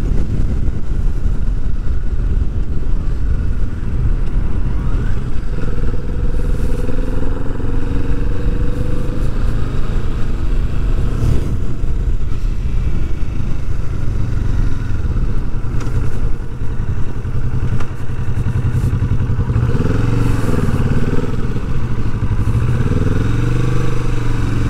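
A 2020 Kawasaki Vulcan S motorcycle engine drones steadily and loudly while riding in fourth gear around 5,000 rpm, with a constant low rumble, wind noise and occasional shifts in pitch as the revs rise and fall.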